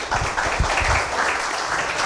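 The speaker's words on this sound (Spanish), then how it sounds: "Salvador Mendoza Jiménez, para quienes les pido un cálido aplauso." An audience gives a short round of applause to welcome the speakers at a workshop on basic financial statements, steady and moderately loud for about two seconds.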